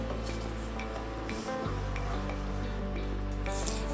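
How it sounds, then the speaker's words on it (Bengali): Methi gravy thickens in oil in a pan, giving a dense, continuous sizzle with scraping strokes of a spoon stirring it, close and fairly loud, with a brief dip midway. "দিয়ে ভালো করে কষিয়ে নেব গ্রেভিটা থেকে যতক্ষণ না তেল ছাড়ছে ততক্ষণ কষাবো"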